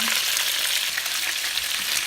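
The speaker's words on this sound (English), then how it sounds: "the Copper Chef pans are letting my broccoli steam up real nicely" Chicken and broccoli sizzling in a Copper Chef pan, a steady close frying hiss that holds evenly throughout with no talk over it.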